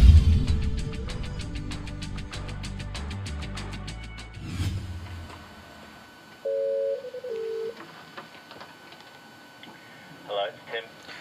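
A few touch-tone dialing beeps come in short separate bursts after a loud opening hum fades, with talk at the start and quiet between the tones.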